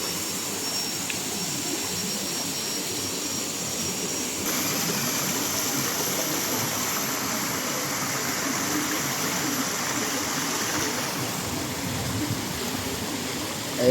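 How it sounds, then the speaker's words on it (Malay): Water flowing in a river near a shaded rest spot in Negeri Sembilan, a steady broadband rushing that holds at an even level throughout, close and unbroken. "menikmati bunyi air sungai"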